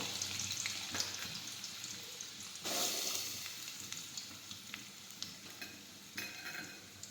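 Chopped chilies and potatoes sautéed in a pan give off a faint, steady sizzle, broken by occasional stirring scrapes and small pops, with no one speaking.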